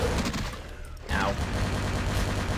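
Rapid, sustained gunfire in the video game Vampire: The Masquerade – Bloodlines blasts off a creature's limb, firing almost continuously apart from a brief pause near the middle.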